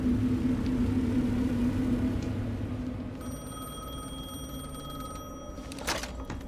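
In the video game Alan Wake 2, a rumbling ambient drone gives way to a telephone's electronic ring, a sustained tonal buzz that starts about halfway through and continues, with a sharper rattle near the end.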